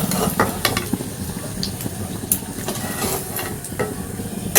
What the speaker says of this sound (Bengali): আমি ডিমগুলোকে এইভাবে লাল করে ভেজে তুলে নেব।